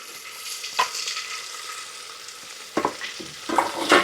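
Small shallots sauté in oil in a pan for mutton gravy, making a continuous sizzle with several sharp spatula scrapes and stirs, clustered toward the end.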